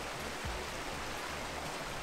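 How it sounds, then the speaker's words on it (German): Wind and rain at dusk in the countryside make a steady, soft broadband hiss, with a brief low gust near the start, faint and unbroken with no voices. "Wind und Regen werden stärker."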